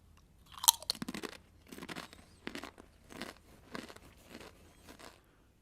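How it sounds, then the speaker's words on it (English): Crunchy nachos with tomato flavouring being chewed close up, a sharp first bite followed by about six rhythmic bursts of crisp crunching, loud and alone. "Very crunchy nachos."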